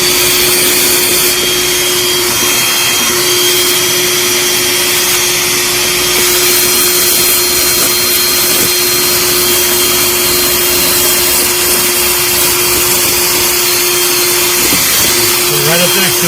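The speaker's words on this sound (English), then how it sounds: "I got a wire wheel we'll take to this, clean it up." A wire wheel on a power tool grinds continuously at a boat's fuel, diesel or water deck fill, a loud, harsh, unbroken whine lasting throughout at close range.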